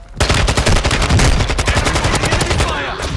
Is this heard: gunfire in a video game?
yes